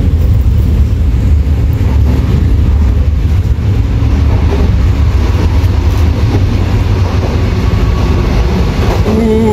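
An international passenger train runs along the rails at speed, filling the space with a loud, constant rumble and faint rhythmic clickety-clack from the wheels.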